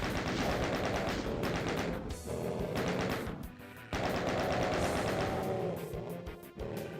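Dense, rapid gunfire from the 1993 video game Doom, loud and nearly continuous bursts of shots with brief pauses between volleys, close up and with no talking.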